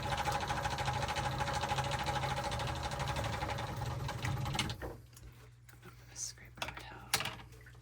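A boat's pump runs with a steady mechanical whir and hum, close and fairly loud, then cuts off abruptly, leaving a low background drone and a few faint clatters, with soft speech mixed in.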